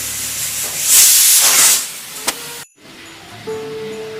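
A pressure cooker cooking beef on high flame hisses loudly with escaping steam in a sustained, close burst that swells and fades, followed by a brief silence and a softer, steady tone.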